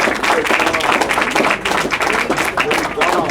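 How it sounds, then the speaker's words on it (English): An audience at a school board meeting claps for autistic scholars, a dense round of applause throughout, with a voice briefly speaking over it. "Give my autistic scholars a round of applause right here."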